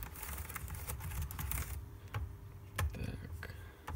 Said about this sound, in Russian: Клавиатура целая, полностью рабочая, ничего не залипает.